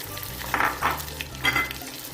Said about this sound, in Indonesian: Lalu kita tumis bumbunya teman-teman sampai matang